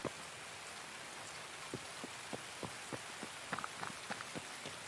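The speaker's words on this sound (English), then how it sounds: "So we're hearing him on glass. This means he's running away." Footsteps of a player running across broken glass in the video game Escape From Tarkov: a series of faint, irregular crunchy ticks at a distance over steady ambient noise, quickening slightly toward the end.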